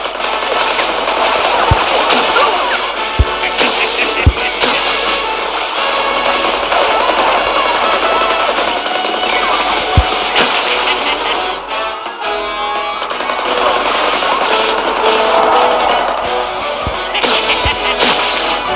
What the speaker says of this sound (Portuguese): tá dando tiro pra cacete